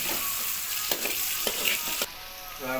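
Bitter gourd, potato and pointed gourd fry in a pan with a bright, steady sizzle, broken by a few sharp scrapes and clicks of a spatula stirring, close and without talk.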